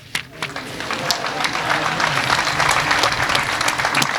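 A church congregation applauds the newly baptized, a dense burst of clapping that swells and holds steady throughout, loud and close with some crowd noise mixed in.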